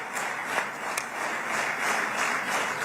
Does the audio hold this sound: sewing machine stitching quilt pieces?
no